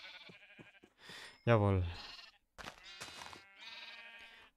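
A white sheep in the Minecraft modpack FTB Revelation gives a loud, wavering bleat in the middle of the clip, with someone talking before and after it.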